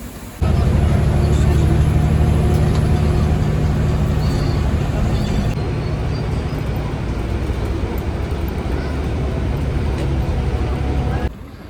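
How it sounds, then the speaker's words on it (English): A bus in Tenerife arrives and drives past, with a loud, steady engine rumble and road roar that fills the whole stretch before cutting off at the end. "here comes my bus to La Laguna"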